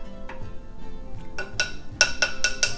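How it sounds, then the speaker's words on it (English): A utensil stirring goat milk in a pot on the stove, a series of bright metallic clinks against the pot's side, growing louder and more regular in the second half. "I'm just gonna kind of stir around"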